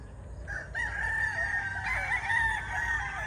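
A sweater gamefowl rooster with a straight comb lets out a long, drawn-out crow up close, with a faint cluck beforehand, at moderate volume and without talk.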